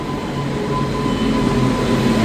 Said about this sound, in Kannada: 5 ನಿಮಿಷಕ್ಕಾದ ಮ್ಯಾಗ ಹುಬ್ಳಿ ಟ್ರೈನ್ ಬಂತು